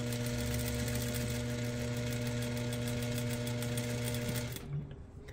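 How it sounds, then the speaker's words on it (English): Sewing machine runs steadily as lace applique is stitched onto a wedding dress sleeve, a loud continuous mechanical hum and whir that stops abruptly near the end. "Now let's get this applique sewn to the sleeve."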